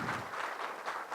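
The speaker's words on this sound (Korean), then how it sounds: "박수 한번 좀 부탁드리겠습니다." A lecture audience gives a brief round of applause, dense clapping in a hall that pulses slightly over about a second.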